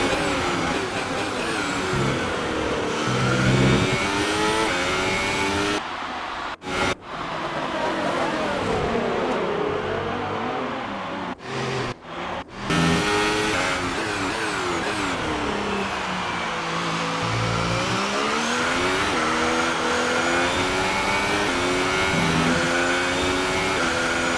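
Ferrari Formula 1 race car engines in the F1 2018 video game at the Australian Grand Prix, a loud, continuous high-pitched scream with rising and falling revs and a few brief cuts between gear changes.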